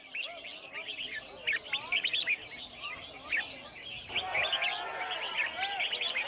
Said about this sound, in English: people have gathered to sell exotic birds, illegally captured in the rainforest, sold for the highest bid, and here, participating in a bird singing competition